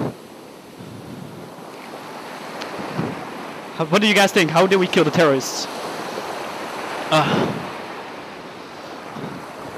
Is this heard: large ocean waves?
yes